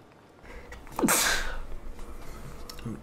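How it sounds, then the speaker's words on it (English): A single sharp sneeze bursts out at close range, a quick intake followed by a loud explosive release, with a faint voice murmuring afterward. "Sorry for the sneeze, I hope it wasn't too loud for y'all."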